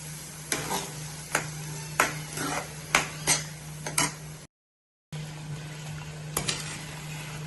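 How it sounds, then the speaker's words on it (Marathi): Green masala for a spicy goat liver dish roasts in a pan with a little water, sizzling softly under a rhythmic series of spatula scrapes and stirs, broken by a brief silent gap. "हा मसाला आहे हा आता आपण पूर्ण छान असं थोडं थोडं पाणी टाकून भाजून घेणार आहोत"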